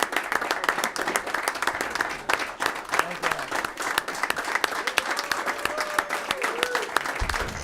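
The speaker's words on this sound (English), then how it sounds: "I think we owe them a round of applause for some great work for a long time." A room full of people applauds the retiring committee chairman and vice chairman at a legislative education committee meeting, sustained dense clapping at steady volume throughout, with faint voices underneath.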